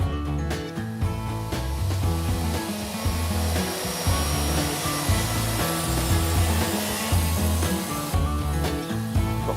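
A power saw whines and roars continuously as it cuts a length of 35 by 40 mm timber during a van conversion, the motor loud and close with no pauses.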